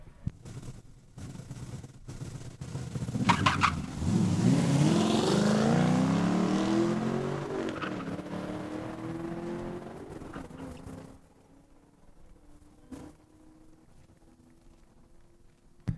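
Drag racing cars, including a 2010 Camaro, run down a quarter-mile strip, engines roaring loudly as they pass and accelerate, then fading into the distance, leaving faint ambient noise.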